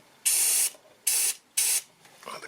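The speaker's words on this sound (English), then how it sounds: "So it has cooled down a little bit and use brake cleaner." Three loud, steady hisses of brake cleaner sprayed into an opened faulty AL4 automatic gearbox during a solenoid valve repair, each burst lasting about half a second with short gaps, close to the mic, followed by faint rustling.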